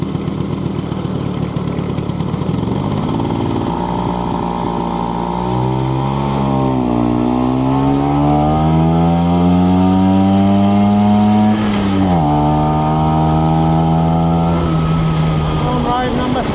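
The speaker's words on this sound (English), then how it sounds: "I'm riding on my scooty. This is fun. I like scooties. Especially Vespas." A 1968 Vespa 150 Sprint scooter engine drones steadily while riding, its pitch rising and falling through gear changes and throttle shifts, close and continuous with wind noise throughout.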